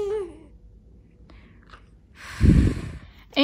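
A young child imitates a blowing sound with a short breathy puff, preceded by an adult's quiet voice and a few faint noises, with another brief breath at the end.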